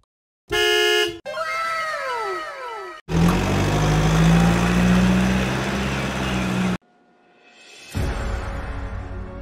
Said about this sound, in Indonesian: Mixer truk merupakan alat berat yang memiliki tabung besar di bagian belakang yang berisi campuran semen beton.